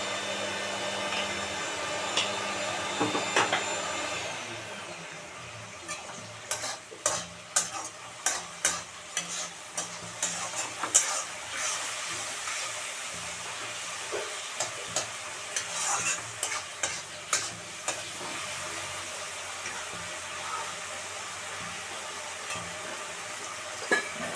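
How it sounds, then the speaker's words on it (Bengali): Spice masala with onions sautéing in a pan for ghugni, a continuous sizzle punctuated by a rhythmic series of spatula scrapes and stirs, close and moderately loud, with no talking. "মশলাটা একটু কষানো হোক"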